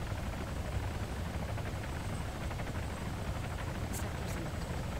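Helicopters in the Arma 3 video game drone steadily with a rough, continuous rotor and engine rumble, constant in level throughout and heard alone, without talk.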